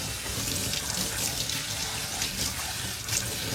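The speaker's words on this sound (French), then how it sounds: "Alors, il ne reste plus qu'à rincer notre kéfir, à l'eau froide, hein, évidemment." Cold tap water runs steadily over fruit kefir grains in a sink, a continuous close hiss and splatter with small fluctuations and no pauses throughout.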